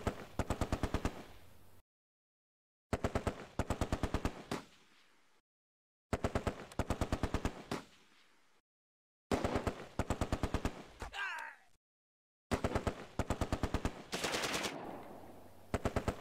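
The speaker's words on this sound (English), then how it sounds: "The Vickers opens up suppressing fire against the Schützen squad." Vickers machine gun laying down suppressing fire in the WWII video game Close Combat, five loud sustained bursts of rapid rhythmic shots separated by brief silences, close and without talk.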